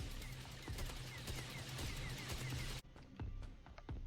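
Gunfire from a starting gun and defensive turrets in the weapon-crafting video game Project RWG, a dense stream of overlapping shots and impacts that drops abruptly to a few scattered pops near the end.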